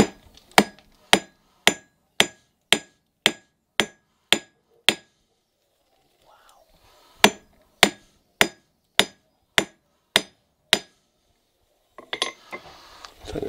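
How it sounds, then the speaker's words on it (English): Smelted copper from malachite struck with a hammer on an anvil: about fifteen sharp, ringing metallic blows in two steady, evenly spaced runs separated by a short pause, loud and close, with rustling at the end. "we could take a bit of this to the anvil and give it a hammer"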